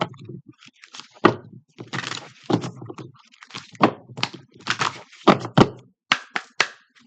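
Tarot cards are shuffled by hand in quick irregular bursts of riffling and tapping, close up, with short pauses between shuffles.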